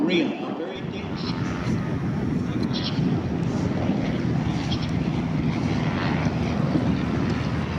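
A de Havilland Chipmunk propeller airplane performs at the EAA AirVenture 2022 airshow in Oshkosh, Wisconsin, with a steady engine drone that holds throughout beneath an announcer's continuous commentary.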